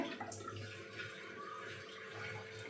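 Okra pods being washed under a running kitchen tap, a steady broadband hiss of flowing water with small splashy variations throughout, close and continuous with no talking.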